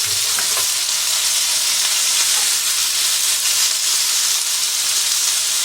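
Chicken curry noodles for a Thai-style dish being stirred in a hot pan, a steady loud sizzle and frying hiss running continuously with faint scraping of the stir underneath, no voices.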